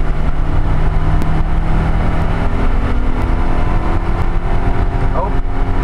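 A 1983 Subaru Sambar 4WD kei mini van engine pulls hard in fourth gear, a steady loud in-cab drone that holds throughout with a faint voice briefly audible.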